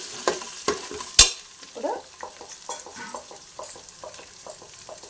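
Pieces of country chicken fry in a pan for a spicy Telangana curry, a soft sizzle broken by a run of sharp scraping and clattering stirs, close by, with one brief spoken word near the start.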